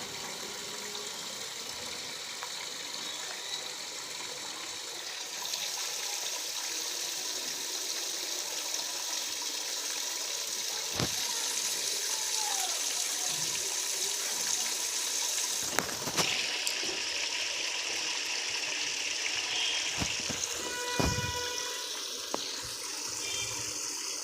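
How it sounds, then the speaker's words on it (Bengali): Cut eggplant and potato pieces hiss in hot oil in a home kitchen pan, cooked ahead of a Bengali fish curry. The sizzle is steady and bright throughout, with a few sharp clinks and scrapes and no talking. "বেগুন আলু দিয়ে মাছের ঝোল করবো যেহেতু, ওই জন্য বেগুন আলুটা দিয়ে দিলাম তেলের উপরে।"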